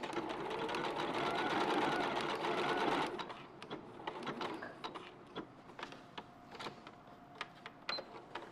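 A sewing machine runs a steady burst of stitching on a quilted cat cushion, then stops, followed by scattered clicks and handling noises with brief talk.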